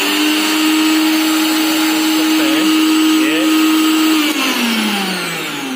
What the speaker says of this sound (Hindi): ये मिक्सर ग्राइंडर है वो बिल्कुल ठीक हो गया है।